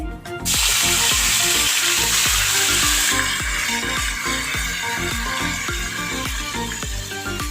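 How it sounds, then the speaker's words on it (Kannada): Ginger garlic paste hits hot oil with a sudden loud hissing burst that stays strong and steady, easing slightly after a few seconds, with rhythmic scraping stirs underneath and no voices. "ಇವಾಗ ಎಣ್ಣೆ ಕಾದಿದೆ ಇದಕ್ಕೆ ಶುಂಠಿ ಬೆಳ್ಳುಳ್ಳಿ ಪೇಸ್ಟ್ ಹಾಕೋತಾ ಇದ್ದೀನಿ"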